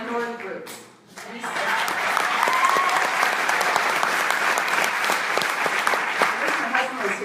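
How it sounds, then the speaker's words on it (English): A large audience at a Pittsburgh public town hall breaks into loud, sustained applause that swells after a brief lull and continues steadily throughout, close and dense with many hands clapping at once. "wish my husband was here to see you all clapping like this."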